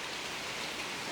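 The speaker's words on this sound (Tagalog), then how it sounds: "Umuulan sa amin guys." Steady rain falls outdoors, a dense, even hiss of drops on surfaces that continues unbroken, loud and close, with no voices over it.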